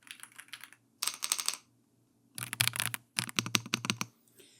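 Fast bursts of clicky keystrokes on an Ajaz computer keyboard, close and crisp, coming in rapid clusters separated by brief silent pauses.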